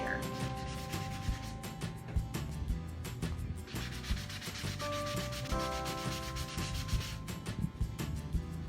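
A sanding brush rubs back and forth over a wooden DIY fall sign in quick, close, continuous scratchy strokes, with a faint hum in the background and no talk.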